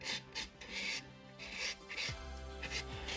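A file rasping across a fingernail plate in one direction during nail preparation, a series of short close scratching strokes in a steady rhythm with no talk.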